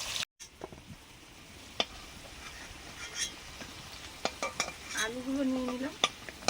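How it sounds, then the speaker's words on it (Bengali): Potatoes frying in a pan, a low sizzle with scattered clinks and scrapes of a utensil, close and fairly quiet, with a brief tonal whine late on. "আলুগুলো আগে একটু ভাজছি"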